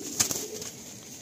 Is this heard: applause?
no